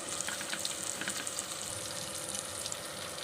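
Onions frying in a pan while a dried fish curry with green chillies and raw mango is cooked, giving a steady, close broadband sizzle and crackle throughout, with no talk.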